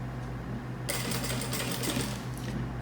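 A domestic sewing machine runs a backstitch at the end of a seam on fabric while a zippered roll-up pencil case is being sewn, a steady close whirring that starts over a quieter motor hum and carries on for a couple of seconds.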